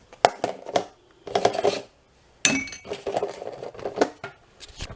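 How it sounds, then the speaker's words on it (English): Dishes, pots and cutlery clink and clatter in a kitchen sink in several close bursts of jangling contact, a few sharper glassy chinks among them, with no talking. "This is all the dishes I have in the sink."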